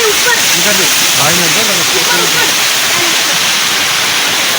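Loud, constant roar of water pouring down from high above at a Mahadev temple site in Ranol village, with a voice talking briefly over it.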